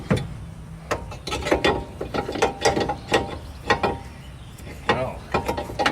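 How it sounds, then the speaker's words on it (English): A ratchet clicks in short, quick bursts while driving the top bolt into a VW Type 3 rear disc brake, with metallic knocks between runs, up close. "then we're going to start with putting our bolt in the top"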